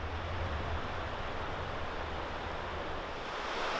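River water flowing along a trail near a campground in Zion National Park: a continuous, even rushing wash heard at a steady level, with no voices or other sounds over it.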